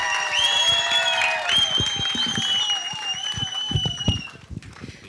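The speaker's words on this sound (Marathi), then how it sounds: "मला वाटतं जोरदार टाळ्या त्यांच्यासाठी झाल्या पाहिजे." An audience clapping at a film trailer launch event for a Marathi-Hindi historical movie, a few seconds of fairly loud applause mixed with sustained tonal music or whistling over it, fading slightly near the end.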